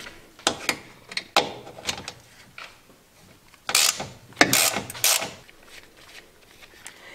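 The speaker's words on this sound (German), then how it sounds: "Dazu schrauben wir die 13er Muttern ab." A ratchet wrench undoes 13 mm nuts holding the power steering reservoir on an Opel Astra G/H. It gives close, irregular bursts of sharp clicking, with quiet pauses between strokes and several dense runs in the middle.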